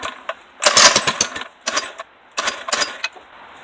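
A 97cc Baja small engine with an oil leak sputters in short, uneven bursts of rattling mechanical running, loud and close, cutting out between attempts.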